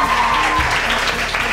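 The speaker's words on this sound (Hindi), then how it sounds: "तालियां बजाओ 89 के लिए।" Students and audience at a school quiz show clap in a loud, dense burst, the applause sustained evenly throughout with a faint tonal hum and a low thump beneath.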